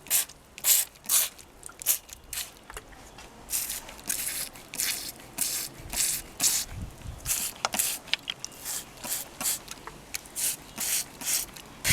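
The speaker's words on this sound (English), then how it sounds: "The beauty of a spray bottle is that you can easily adjust the spray, whether it's a mist or a direct spurt like this one." Handheld spray bottle squirting water onto potted succulents, a rapid series of sharp hissing spurts, each one short and close, repeating in an uneven rhythm.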